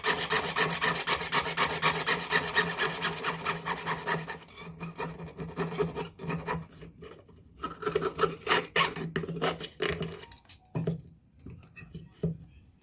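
A saw blade rasps back and forth through a metal nameplate, a close, rapid rhythmic scraping that is dense at first and then breaks into shorter, irregular strokes.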